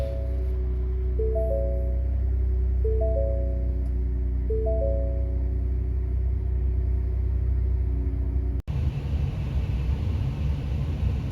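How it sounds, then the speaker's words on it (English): A 2016 Ford F-150 with a 2.7L EcoBoost engine, freshly fitted with new spark plugs, starts and settles into a steady, close, low rumbling idle, with a brief break before a rougher, broader running noise. "I'm going to start it up, see how it runs."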